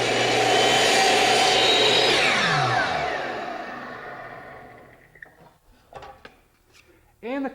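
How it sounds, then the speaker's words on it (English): A compound miter saw cuts wooden shutter louvers to length, opening with a loud whining motor that slowly spins down, followed by a few faint knocks and handling sounds. "the compound miter saw makes quick work of cutting them off to length"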